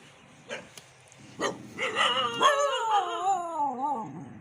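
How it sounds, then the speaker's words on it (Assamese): A dog, tied up near a farm field, gives a few short barks followed by a long wavering howl-like whine, moderately close and alone with no talk. "কুকুৰৰ পৰা সাৱধান, এডাল লৈ আহিছোঁ।"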